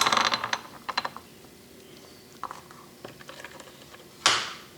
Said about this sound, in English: we have a ratcheting mechanism back here